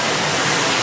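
Water sprays hard against a flood door during extreme testing, a dense, continuous roaring hiss like a waterfall, loud and steady throughout with no voices.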